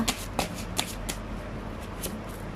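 Tarot cards are shuffled by hand, a run of crisp riffling and flicking bursts, loudest at the start and then settling into softer, regular card slaps close by.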